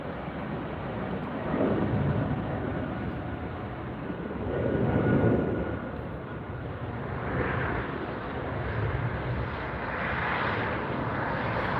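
An Austrian Airlines Boeing 777-200ER jet bound for Vienna takes off from LAX, a steady broad jet-engine roar swelling and easing in waves at moderate distance, with no voices.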